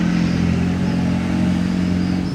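A McLaren 675 LT supercar drives by in Monaco, its engine a loud steady droning hum close to the listener, with no talk over it.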